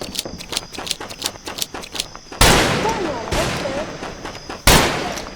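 Shotgun blasts ring out in a video game, with two loud sharp reports standing well above a patter of quieter rapid gunfire and in-game noise; friends chatter in the background.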